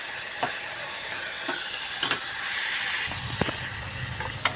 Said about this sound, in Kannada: ಉಪ್ಪು ಅರ್ಶಿನ ಪುಡಿ ಇದಕ್ಕೆ ಹಾಕಿರ್ತೀನಿ ರೀ ಒಂದು ಚೂರು ಹಿಂಗೆ ಹಾಕಿ ಸ್ವಲ್ಪ ಫ್ರೈ ಮಾಡ್ಕೊತೀನಿ ರೀ